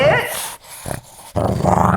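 A dog growls low and harshly in two bursts, close and loud, with a brief pause between them.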